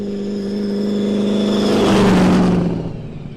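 A car the owner drives only in dry summer weather and keeps off wet roads, its engine running and revving up, building to a loud peak mid-clip and then easing off, with no talking.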